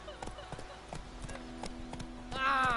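Hooves of Roach, the horse in The Witcher 3: The Wild Hunt, clip-clop in a steady trotting rhythm, with a short whinny-like snort near the end and a voice speaking briefly.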